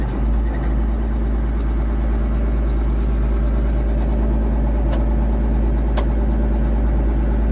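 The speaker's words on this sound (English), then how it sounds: "show you guys kind of how this tractor really does run" A Case IH 2594 tractor engine idles steadily in gear without moving, a continuous low diesel rumble holding an even pitch, close and fairly loud, with a couple of faint clicks and no voices.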